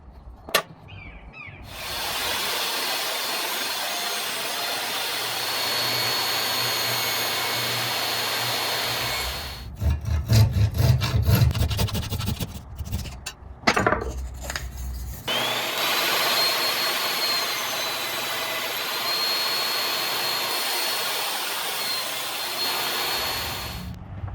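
A power saw resaws a piece of walnut for a knife guard, roaring loudly and steadily for long stretches, broken by a choppier middle section and a short pause.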